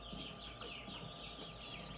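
Hen or rooster clucking steadily among a flock of chickens on a small farm, a close, continuous burbling cackle with no talk over it.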